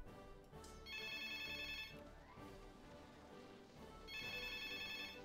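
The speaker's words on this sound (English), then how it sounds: "Oh god, my phone's ringing." A phone ringtone chimes in two repeated bursts of bright electronic tones, fairly faint and set against a dense bed of background music.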